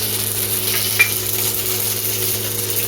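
Mustard seeds and urad dal fry in hot oil in a silver kadai, giving a steady close sizzle with a faint crackle, alone with no talk.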